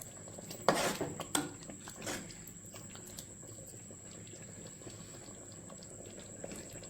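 Carrot halwa mixture boiling in a pan after sugar is added, a faint steady bubbling simmer with a few louder clinks of a utensil against the pan near the start.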